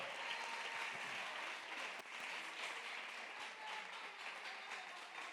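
Church congregation applauding, a dense sustained burst of clapping that fills the space evenly and stays fairly soft, with scattered sharper claps throughout.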